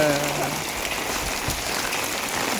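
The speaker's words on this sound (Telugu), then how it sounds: "ఫుల్ వర్షం కొడుతుంది," Heavy rain pours down in a steady, loud hiss and patter, a dense continuous wash with a brief voice at the start.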